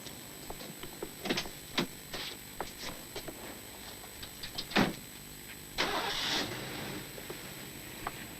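A car engine starting up after a sheriff's warning to drive straight out past the district line, heard as a crank and catch amid clicks and shuffling, with a brief rising burst of engine noise mid-way and a longer rumble near the end.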